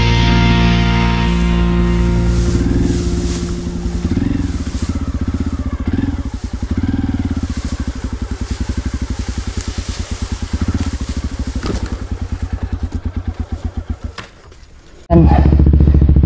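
Motorcycles ride along a mountain trail beside an irrigation channel, their engines chugging steadily and revving in rhythmic pulses for most of the stretch, dipping briefly before a loud burst near the end.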